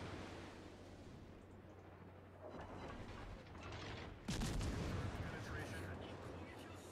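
Naval shells firing and landing in World of Warships Legends: a low rumbling barrage over sea ambience, with a heavier impact burst midway, moderately faint.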